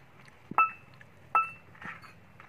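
Glasses clink in a quiet kitchen while hot water is served, giving two sharp, bright ringing taps about a second apart and a softer knock after them.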